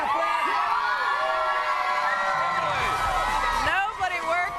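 Texas Rangers fans cheer and whoop at the ballpark after a game, with a dense, excited crowd roar full of high shouts and whistles that stays loud throughout.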